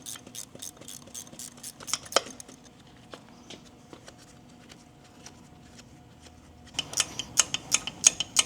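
GearWrench ratchet wrench clicking in short bursts while loosening oil lines on a twin-turbo 1993 Acura NSX engine, sharp ratcheting ticks near and moderately loud, pausing midway before a faster, louder run at the end.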